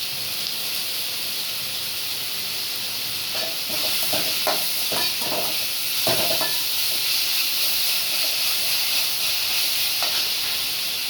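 Ginger, garlic, chilli powder and salt sizzle in a hot pan for a masala roast, a steady loud frying hiss throughout, with a few clinks and scrapes of a stirring spoon partway through.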